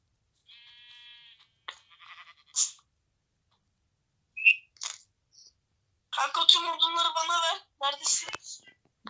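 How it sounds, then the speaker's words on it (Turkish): Sheep bleating in the Minecraft video game, a few short game bleats that come and go, mixed with other game sound effects and voices talking. "Aa şurada koyun var."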